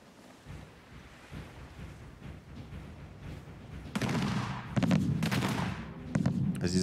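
Ship cannons firing in the Anno 1800 naval battle game, several booming shots in the second half over sea waves and wind.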